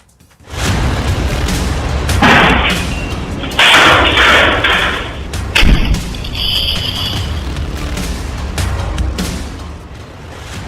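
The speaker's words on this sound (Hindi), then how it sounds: "हाथों में जलती पेट्रोल की बोतल और जोरदार धमाके की आवाज" A burning petrol bomb explodes: a sudden heavy boom erupts after a brief quiet, followed by sustained roaring noise, another loud burst, and crackling rumble that slowly fades.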